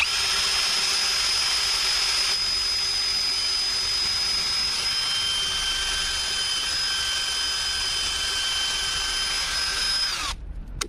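A cordless 20V impact drill whines steadily at high speed for about ten seconds, driving a 100 mm lag screw into wood, then winds down abruptly near the end.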